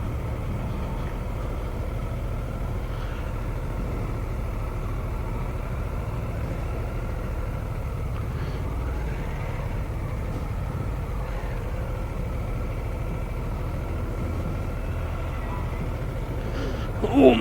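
Harley-Davidson Sportster S motorcycle engine while riding, a steady low rumble that drones continuously for over fifteen seconds, with a brief sharper burst near the end.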